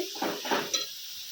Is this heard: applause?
no